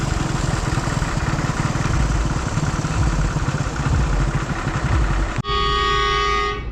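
A lone trial train engine reaching a railway crossing at night, its loud rumbling roar close by, then a long steady horn blast sounding for the last second or so.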